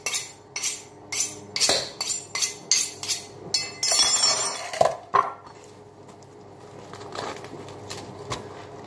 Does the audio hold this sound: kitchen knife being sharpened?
yes